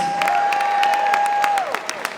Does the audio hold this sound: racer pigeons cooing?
no